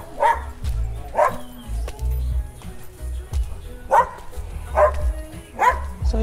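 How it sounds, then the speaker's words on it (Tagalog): A large dog barks in loud, close bursts at irregular intervals, about five barks, with low rumbling noise between them. "So may aso dito, laki ng aso"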